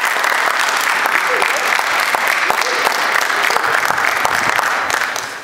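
A room full of students gives themselves a round of applause, loud and sustained clapping with crowd noise that holds steady before tapering off at the end.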